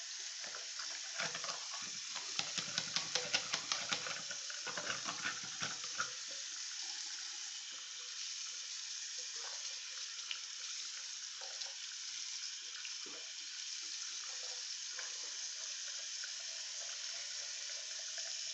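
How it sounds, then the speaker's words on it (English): Water runs from a tap and drains freely into a sink after the drain is unclogged. A quiet, steady wash and trickle continues throughout, with a few light knocks early on. "water flows freely into the sink just by using a zip it"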